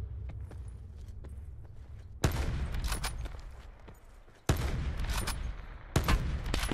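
Gunfire in the Call of Duty Blackout video game: three loud, abrupt bursts of rapid shots, with quieter stretches of scattered clicks and steps between them.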